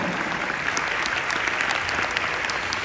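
Steady applause from an audience, dense clapping at even loudness throughout the short moment with no voices standing out.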